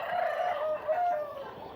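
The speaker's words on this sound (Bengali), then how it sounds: "মুরগির প্রচণ্ড আওয়াজ আসছে" Chickens inside a poultry farm, a close, fairly loud rooster-like crow and clucking from the flock filling the short moment without any talk.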